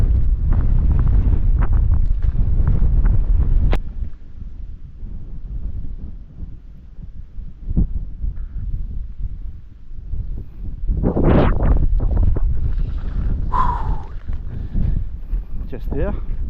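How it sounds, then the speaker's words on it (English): Strong gusting wind roars across the microphone on the hilltop of Mynydd Parys, North Wales, rumbling and buffeting throughout, with someone talking briefly partway through. "It's very windy now"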